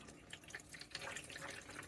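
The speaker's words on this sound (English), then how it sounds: "I'm just going to pour it over inside of the system like so." Nutrient water pours into an AeroGarden hydroponic system as a soft, continuous trickle and splash, faint and steady throughout with no talking.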